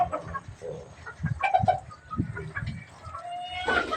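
Chickens and ducks in a pen give scattered clucks and squawks at moderate distance, irregular calls overlapping with a louder burst near the end.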